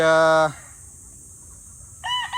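A young rooster (stag) crows loudly and close. One drawn-out harmonic call opens, then a quiet gap of farmyard background, then another short crow begins near the end.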